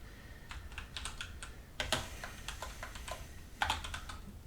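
C code being typed on a computer keyboard, with a steady patter of close key clicks and two louder clustered strokes, heard on their own.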